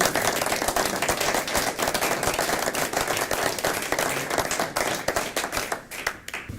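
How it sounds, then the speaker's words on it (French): A sustained round of applause from an audience at a Fête des Vignerons 2019 gathering in the Grange de Dorigny hall, dense, fast overlapping clapping that stays full and steady, tapering slightly near the end. "Je pense qu'on peut vous applaudir."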